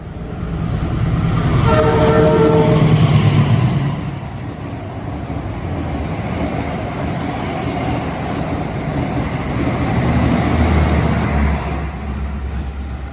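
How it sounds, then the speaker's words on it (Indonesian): The Argo Bromo Anggrek passenger train rolls loudly through Pemalang station at night at close range without stopping, horn blaring early on, followed by a continuous roar and clatter of wheels on track. "Kereta api Argo Bromo Anggrek sudah melintas langsung di stasiun Pemalang ya"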